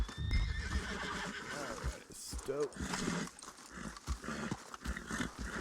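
In an old west video game, a horse gives a loud whinny while its hooves clip-clop at a steady pace, with voices talking over the galloping and an outdoor bed of sound underneath.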